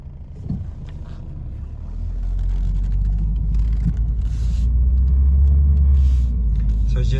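A 2014 Ford Focus engine drones steadily and rises gradually in drive as the transmission fails to shift, a continuous low rumble from inside the car that swells over several seconds, with faint speech in the background.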